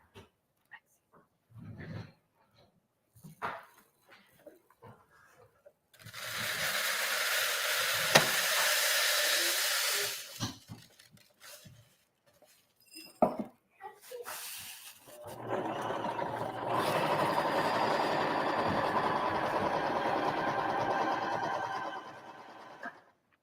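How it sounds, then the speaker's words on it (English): Two bursts of steady machine whirring, about four and eight seconds long, come from a sewing machine stitching a fabric heater bag in a kids' class, with quiet handling noises and pauses between them. "I'm going to sew mine now"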